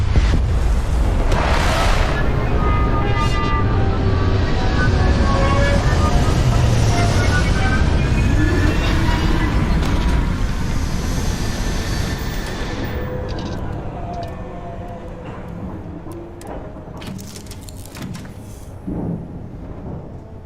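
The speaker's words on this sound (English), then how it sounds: "Beginning landing cycle." Spaceship landing sequence in the video game Starfield: a loud, sustained rumbling roar with booming low-end thrust and whooshing layers that builds, then gradually fades and settles toward the end, with a brief thump near the close.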